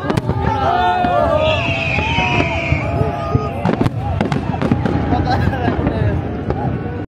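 Fireworks exploding at Majaz, Marina Mall and JBR Beach, a dense run of booms, crackles and pops over a loud crowd murmur, with whistling shells rising and people talking nearby.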